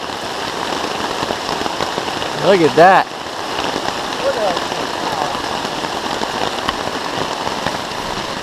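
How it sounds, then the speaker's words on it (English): Heavy rain pours through forest trees onto a backpacking tent in a wilderness area, a steady dense hiss throughout, with a man briefly exclaiming and talking near the start. "Man, it is pouring."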